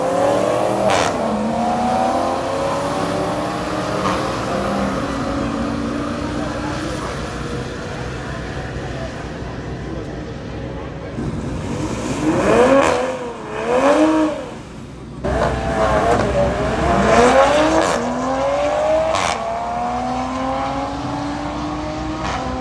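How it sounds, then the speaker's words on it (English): Toyota Supra cars accelerating hard down a drag strip, engines rising through gears with loud revving sweeps, a pause around the middle, then another run building again, with some voices mixed into the engine noise. "enjoy these little Supra runs"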